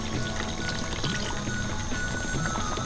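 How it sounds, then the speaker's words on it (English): Water poured into a chicken handi pot of yogurt-fried chicken being cooked, a steady close pouring and trickling stream running the whole time without speech. "add the water now"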